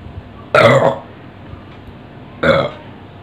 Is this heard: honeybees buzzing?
no